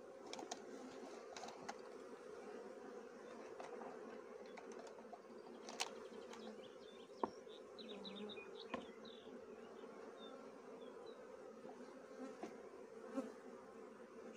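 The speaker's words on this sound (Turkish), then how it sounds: "Bu zaten bal yapar galiba bu arı." Honey bees buzz around a beehive outdoors on a fine day, a steady, dense hum with close passes drifting in and out and an occasional faint bird note in the background.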